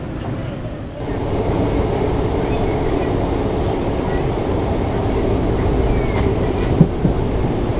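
An express train running from Tambaram to Mangaluru through a hilly ghat section gives a steady, loud rumble and rolling noise throughout, heard from inside the train with a brief clank near the end.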